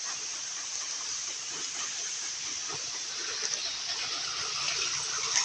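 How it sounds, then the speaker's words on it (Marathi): Rainwater flowing off a flooded road rushes and hisses steadily, a continuous gushing flow heard up close with no voices. "तर मित्रांनो इथून पाणी डायरेक्ट कातलावडीमध्ये जातं"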